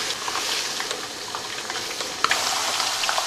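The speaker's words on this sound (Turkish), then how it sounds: "Kuşbaşı etini kavuracağım." Diced meat being sautéed in a pan, a steady close sizzle with light popping and a few stirring scrapes, one sharp clatter partway through, no talking.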